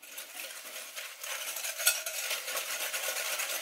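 Hand whisk beating eggs with organic pure cane sugar in a bowl, a steady rapid scraping and clicking against the sides, close and continuous with no talking.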